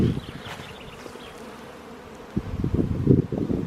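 Buckfast honey bees working at their hive in spring, a steady close insect buzz with individual bees droning past, growing louder and busier toward the end, heard alone without talk.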